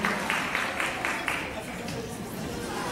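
Audience applause at an art contest ceremony for children: a burst of clapping from a crowd indoors, strongest at the start and gradually thinning, with murmuring voices underneath.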